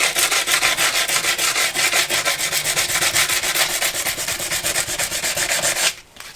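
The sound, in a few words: hand sanding curb rash on a wheel with 60 grit sandpaper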